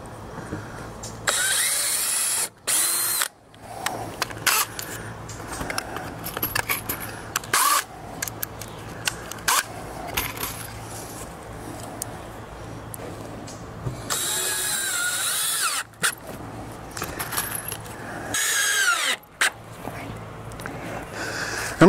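A power drill drives 1¼-inch screws into the wooden frame of a quail hutch, with repeated whirring and ratcheting bursts of varying length, close and fairly loud, separated by short pauses and handling clatter.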